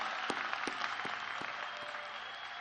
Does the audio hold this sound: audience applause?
yes